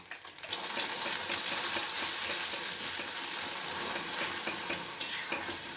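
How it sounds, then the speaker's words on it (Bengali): Egg bhurji, scrambled eggs, fries in hot oil with a steady, close sizzle while a utensil stirs and scrapes the pan throughout, with no talking. "ভুর্জিটাকে একটুখানি ফ্রাই করে নেবো আমি হালকা"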